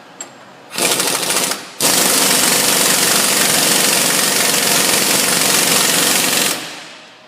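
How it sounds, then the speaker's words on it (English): An impact wrench hammers down the axle nut on a Ford Focus or Transit Connect front wheel bearing, a short loud burst followed by a longer sustained rattling run, close up with no talk. "So it's very important that we torque this down properly"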